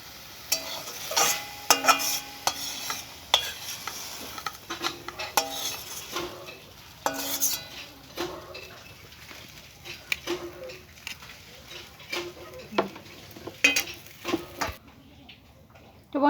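Fried leafy greens are scooped from a pan onto a plate over a low flame, a faint lingering sizzle punctuated by a series of irregular metallic scrapes, taps and clinks, then quiet at the end.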